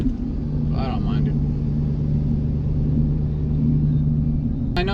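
A 2017-or-newer 6.7 Power Stroke Super Duty truck with a straight-piped exhaust gives a continuous deep diesel rumble and drone, heard steadily from inside the cab, with a voice briefly audible over it.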